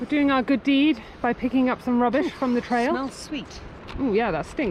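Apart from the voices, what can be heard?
None of the usual background noises is heard.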